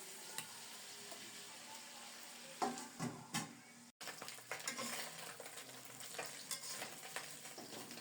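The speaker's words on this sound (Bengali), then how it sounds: "মাথাটাকে ভেঙে ভালোভাবে নেড়ে ছেড়ে সামান্য হলুদ দিয়ে লাল লাল করে ভেজে নেবো" A rohu fish head, broken up and fried with a little turmeric, sizzles steadily in a pan while being stirred, with a few clattering scrapes of the utensil partway through.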